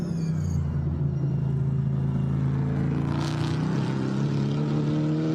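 GT4 race cars at the Paul Ricard circuit, a loud sustained engine roar with rising and falling harmonic tones as cars pass, continuous and close.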